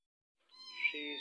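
A Scottish Fold cat gives a single clear, close meow that rises and then holds, beginning after a short silence.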